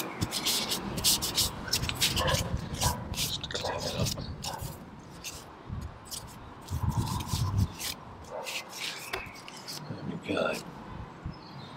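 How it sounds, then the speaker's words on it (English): A cloth wipes down the grease-sealed outside of a Land Rover Freelander 2 rear wiper motor, producing close, soft rubbing and scuffing strokes in an uneven, whispery rhythm. "Now that the grease is all sealed inside under the cover, I can actually give this a bit of"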